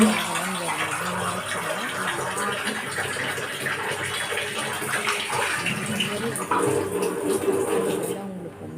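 Steady rushing water pours continuously, like a tap filling a basin, with faint voices and clinking in the background; it cuts off abruptly near the end.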